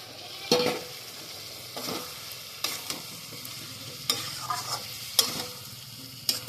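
Cauliflower with a poppy-seed paste frying in oil and stirred in a pan, a low steady sizzle broken by several scraping stirs at uneven intervals, close and moderately quiet, no speech.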